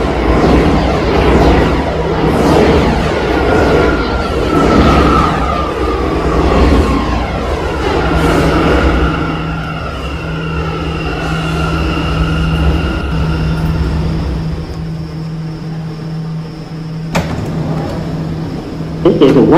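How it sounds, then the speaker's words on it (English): Subway train in Roblox arriving on the local track at 42nd Street, a long rumbling approach with a steady electric hum and fading rail noise. An automated announcement voice speaks over it. "Train is now arriving on the local track."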